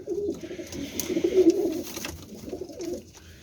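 Royal pigeons coo close by in soft, rolling, low throaty phrases that rise and fall, with faint background noise behind them.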